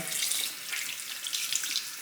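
Warm water runs steadily from a bathroom tap into a sink during face washing, a close, continuous hissing splash with no talk.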